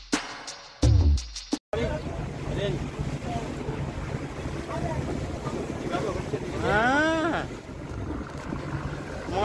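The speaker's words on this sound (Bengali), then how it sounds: "আমাদের ট্রলার কিন্তু ওইভাবেই চলছে" A trawler travelling out on the open sea churns along with a steady engine and water rush, buffeted by strong wind noise across the microphone, with a few sharp knocks at the start and people's voices in the background.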